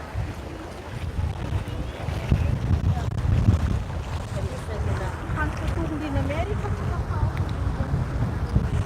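Wind buffets a microphone at the beach in Alcudia, Mallorca: a low, rumbling, uneven roar that persists throughout, with a person talking over it.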